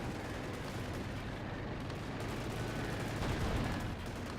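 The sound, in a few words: rifle grenade shots in Company of Heroes video game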